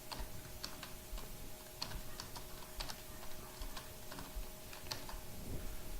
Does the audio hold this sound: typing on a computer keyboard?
yes